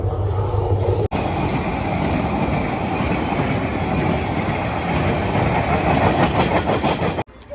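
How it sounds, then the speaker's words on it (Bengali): A train rolls past close by on a railway line, a loud continuous roar of wagons and wheels with rhythmic clatter, briefly cut off near the start and end, with no voices. "দেখেন আমার পিছনে কিন্তু একটা ট্রেন দেখতে পাচ্ছেন আপনারা"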